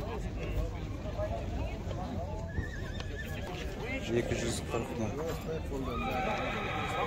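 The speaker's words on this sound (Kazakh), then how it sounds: "Көк бардың жылқысы." Horses at a livestock market, with several neighs and whinnies rising over clip-clopping hooves and a busy crowd, while people talk and call out prices nearby.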